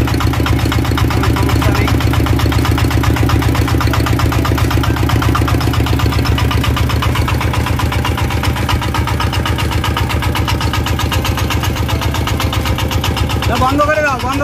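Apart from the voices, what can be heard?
R180 diesel engine starting and idling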